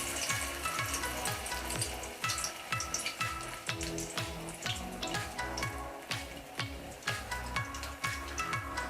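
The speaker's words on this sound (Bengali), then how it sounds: "বড়াটাকে এবার আমরা ভাজছি।" Prawn fritters fry in hot oil in a kadai, a steady dense sizzle with rhythmic crackling bursts throughout, close and continuous with no voices.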